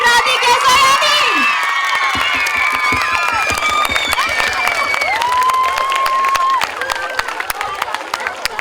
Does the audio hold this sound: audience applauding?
yes